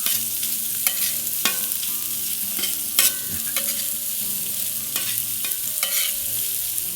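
Spatula strokes scrape and clatter against a hot flat-top griddle as pulled pork with a dry rub is stirred in, over a steady sizzling hiss, with several sharp metallic clanks.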